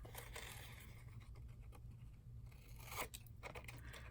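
Scissors snip out a paper embellishment for collage, with quiet close crisp cuts coming in irregular bursts over a faint low hum.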